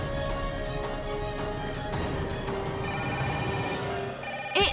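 A telephone rings steadily in a room amid a dubbed drama scene, the repeated ringing tones running throughout under a busy background.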